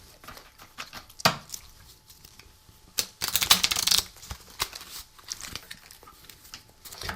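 Slick new playing cards being shuffled and cut, with a sharp riffle burst and clustered crisp flutters and snaps near the mic, separated by quieter handling in between.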